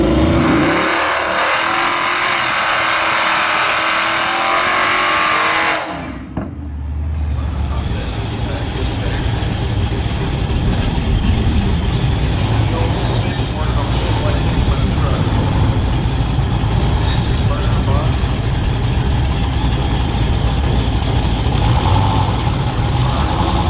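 Boosted, cammed Ram 1500 truck with a swapped 46RE transmission making a drag racing pass: a broadband engine roar launches at once and holds loud and steady throughout, with voices faintly under it.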